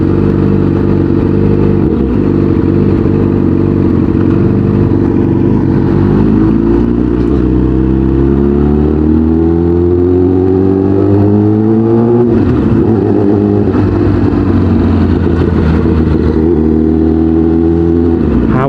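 A big bike motorcycle with a loud aftermarket exhaust revs hard and continuously, its engine pitch rising and falling through repeated throttle pulls. It is very loud and close, with no voices.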